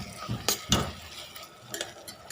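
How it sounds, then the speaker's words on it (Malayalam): Tomato sautéing in oil over a medium flame, with a few sharp spoon-stirring scrapes against the pan over a low, steady sizzle, close and moderately loud. "ഈ ഒരു മീഡിയം ഫ്ലെയിമിൽ വെച്ച് നമുക്ക് നന്നായിട്ട് വഴറ്റിയെടുക്കാം."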